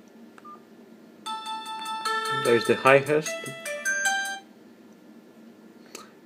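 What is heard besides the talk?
Alcatel 2000 mobile phone ringtones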